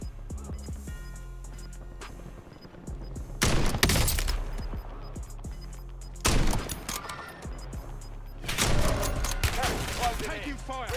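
Bursts of rapid automatic gunfire in a Call of Duty-style shooter, loud sustained volleys in three clusters over a constant low game rumble and soundtrack, with brief radio-style voice callouts.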